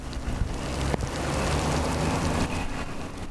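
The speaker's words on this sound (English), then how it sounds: "Then the rain started all over again." A heavy rainstorm pours down in a steady, dense roar of rain, with a brief sharp crack near the start and a slight swell midway, loud and close throughout.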